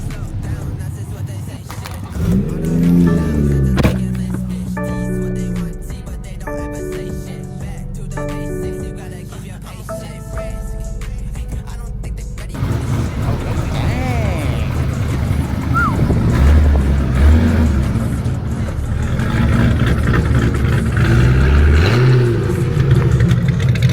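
A BMW M240i with a drag pack installed, revving at a rainy-night car meet: throaty engine blips rise and fall over idle, with rain noise and nearby voices talking over it.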